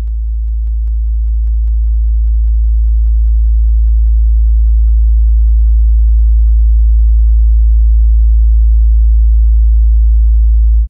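A single low sine tone sonifies data mapped to loudness. It swells gradually and then holds steady and loud for about eleven seconds, with faint clicks scattered over it.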